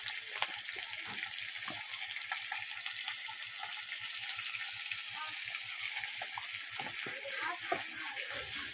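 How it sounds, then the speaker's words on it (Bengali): Potatoes with turmeric sizzle softly in a pan, a constant fine hiss with faint light clicks and taps of a utensil scattered throughout. "আলুটাকে যে লাল লাল করে একটু ভেজে নেব"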